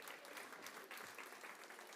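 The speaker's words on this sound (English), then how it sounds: "Everybody give a big round of applause to John Rycroft." A hospice fundraiser crowd applauds a man being called up on stage, a short, continuous wash of clapping that sounds faint and somewhat distant throughout.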